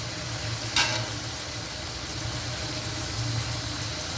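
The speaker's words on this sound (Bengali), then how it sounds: "এখন আমি এখানে ডিম দিয়ে দেব।" Egg added to a pan of frying mushroom, chicken and prawns for vegetable mixed chow mein, one brief close splash into a steady sizzle that continues alone under a low background hum.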